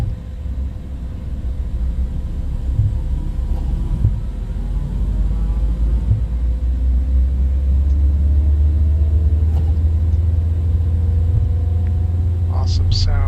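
Engine number 2 of a Cessna Citation X spooling up in the FlightFX game, a low rumble building steadily into a sustained drone with a rising whine, loud and continuous.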